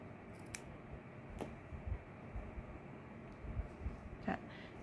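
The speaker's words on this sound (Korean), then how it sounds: "요 긴 실은 잘라주세요" Scissors snip a long strand of crochet yarn while finishing a crocheted flower dish scrubber: a few faint, sparse snips over quiet room noise.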